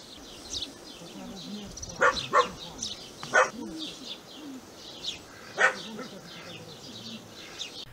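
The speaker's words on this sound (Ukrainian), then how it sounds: "На вході до будівлі сидять собаки, які охороняють залишки майна" Several dog barks ring out at moderate distance from dogs guarding a shelled, ruined homestead in Komyshuvakha village, Ukraine, a few single yaps spread over the stretch, with faint bird calls and low voices in the background.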